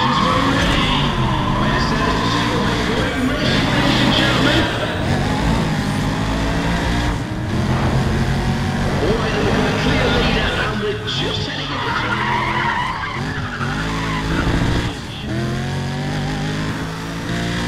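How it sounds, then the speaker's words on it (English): Loud, continuous roar of racing engines with tires squealing and skidding, steady and dense throughout, with synthetic game-like sound, from the video game Need for Speed: ProStreet. "Listen to those engines already."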